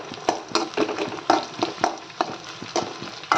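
Onions sautéing in a pan for chicken curry, with a soft steady sizzle and regular scraping stirs of a spoon, close and moderately loud with no talk.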